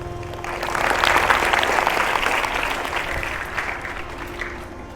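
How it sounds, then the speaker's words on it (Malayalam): A school audience at an Arabic Day celebration claps in a sustained, dense round of applause that swells and then gradually fades, close and continuous. "Very good, give a lot of applause."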